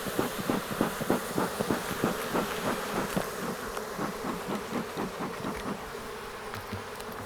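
Honeybees buzzing loudly and steadily around an opened hive during a fall inspection, a dense agitated drone with pulsing swells, close by, no talking.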